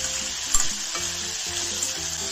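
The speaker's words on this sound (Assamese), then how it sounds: "এইখিনি অলপ ভাজি ল'ম" Ingredients for a fish curry fry in a pan with a loud, continuous sizzle and crackle close up, joined by brief scraping stirs and a faint steady hum, with no talking.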